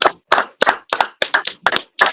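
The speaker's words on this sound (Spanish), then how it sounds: "Vamos a recibirlo con un aplauso." Studio audience on a Dominican wrestling talk program welcoming a guest with claps, though only a few hands are heard: about eight crisp, evenly spaced claps, close and alone with no talk.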